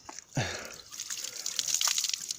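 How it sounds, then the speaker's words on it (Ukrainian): Clean mountain water in the Carpathians splashes and trickles as someone washes their face, with a brief gush of splashing followed by steady, soft dripping and running water close by. "Миється в чистій водиці. морду свою відмиває."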